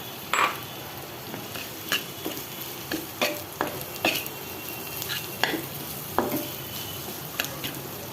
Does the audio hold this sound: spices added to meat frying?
yes